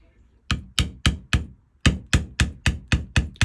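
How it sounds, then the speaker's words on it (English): Steel beveler tool struck repeatedly with a mallet on tooled leather around a carved sunflower center, about a dozen sharp, evenly spaced taps in quick rhythm, close and loud with no talking. "I cut in the sunflower center and I bevel it in with an extra steep beveler"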